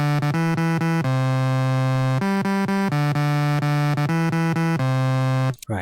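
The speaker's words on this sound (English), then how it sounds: "this to add some distortion to the bass" Distorted synth bass layer for a progressive house track built in FL Studio, playing a rhythmic pattern of short and held notes with a thick, buzzy harmonic tone, loud and alone, ending abruptly.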